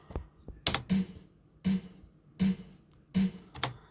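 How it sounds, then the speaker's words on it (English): A sampled snare drum is struck four times at an even, moderate pace, each hit a sharp crack with a short decay, fairly quiet overall, with a couple of faint taps before the first strike. "So we have this snare drum here. It sounds like this."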